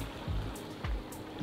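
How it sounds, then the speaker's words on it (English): Sea water surging in and out over rocks at the foot of a coastal cliff in Maine, heard as a steady, fairly loud wash with a few deeper swells rolling through. "the water come in and out over these rocks"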